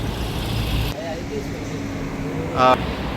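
Traffic hums past a bus stop in Malaysia, a steady low road rumble with a brief sharp hiss or brake squeal near the end.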